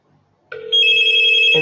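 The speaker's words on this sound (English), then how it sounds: "I answer on my cellular phone" A cellular phone rings loudly and close, a steady electronic tone starting after a short quiet moment and holding to the end.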